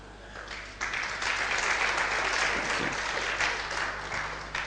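Applause from an audience at a Springboard motivational talk, a broad steady wash of many hands clapping that swells after the first second and holds loud throughout, with no voices on top.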